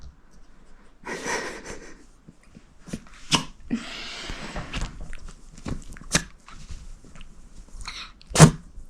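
A small, sharp dog sneeze bursts out near the end after a stretch of quiet snuffling, breathing and faint household movement.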